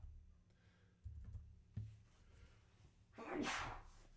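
A single sharp sneeze bursts out near the end, following a few quiet clicks and soft background rustling.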